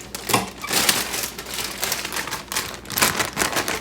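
Scissors snip and tear through the plastic bag of a romaine lettuce package, giving close, crinkly bursts of cutting and rustling that come in uneven clusters, louder near the start and end, with no talking.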